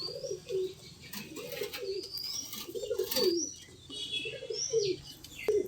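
Crested pigeons and common pigeons cooing in repeated soft, low rolling phrases, with higher chirps and tweets scattered through and a faint flutter of wings.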